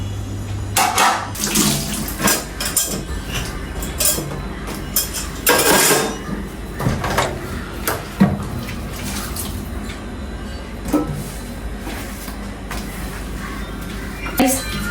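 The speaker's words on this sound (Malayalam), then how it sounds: "കുറച്ച് പ്ലേറ്റ് ഉണ്ട് ഞാൻ ഇടയ്ക്കിടയ്ക്ക് കഴിയുന്നുണ്ട് അധികമില്ല എന്നാലും ഒരു രണ്ട് മൂന്നെണ്ണം ഉള്ളൂ ഉണ്ടോ അത്രേ ഉള്ളൂ ഇത് പെട്ടെന്ന് കഴുകി എടുത്തിട്ട്" Two or three plates are washed under a running kitchen tap, with a steady water stream, splashes, and intermittent clinks and knocks of dishes, close and fairly loud throughout.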